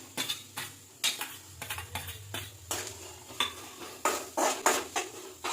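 Onions frying in a pan in a home kitchen with chilli, repeated metal clatters of a utensil stirring and scraping the pan over a faint sizzle, close and fairly loud in uneven bursts.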